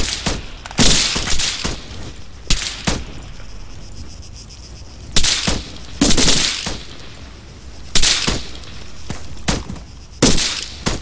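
Gunfire in the military shooter Arma 3: bursts of loud rifle shots and sharp cracks in irregular clusters, with quieter gaps between volleys and a faint insect-like hum in the background.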